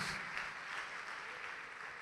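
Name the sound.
congregation applauding Jesus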